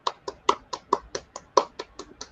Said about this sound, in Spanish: desmutemos, ¿no? Para que escuche el aplauso.